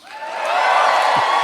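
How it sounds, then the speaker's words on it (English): A live theater audience in Los Angeles cheers and whoops in a sustained, loud wash of crowd noise that swells and holds throughout. "I love being cheered for knowing what city I'm in"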